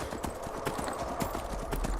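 Horse hooves in the Skyrim video game, a steady, close clip-clop at riding pace that carries on evenly with no other sound on top.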